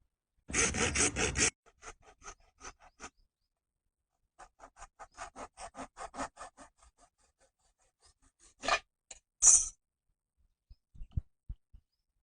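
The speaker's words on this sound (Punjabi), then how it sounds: "ਜਿਹੜਾ ਚੌਪਰ ਦੇ ਵਿੱਚ ਇੱਕ ਪੁਰਜਾ ਕੱਢਿਆ ਸੀਗਾ ਉਹਨੂੰ ਇਸ ਤਰ੍ਹਾਂ ਕੱਟ ਕੇ ਮੋਟਰ ਦੇ ਉੱਪਰ ਫਿੱਟ ਕਰਾਂਗੇ" A part salvaged from a chopper is cut down to fit a motor shaft, heard as short sharp rasping strokes, a rhythmic run of lighter scraping cuts and a few louder isolated scrapes, close and otherwise quiet.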